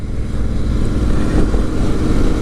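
Royal Enfield Interceptor 650 parallel-twin motorcycle engine dropping a gear in its six-speed box, a loud close low rumbling burble with a slight rise in revs, steady and unbroken.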